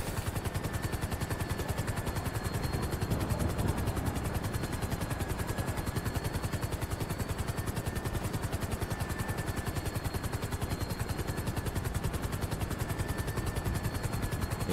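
A helicopter in the video game GTA Online has a rapid rotor chop running steadily throughout, loud and close, with a constant engine whine layered over the thumping blades.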